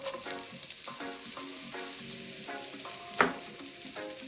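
Onions sizzling in a pot with a little leftover oil, a steady close frying hiss with light crackles and a sharper pop near the end, no voices.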